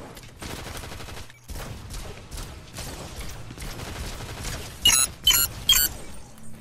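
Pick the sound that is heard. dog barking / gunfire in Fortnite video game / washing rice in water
gunfire in Fortnite video game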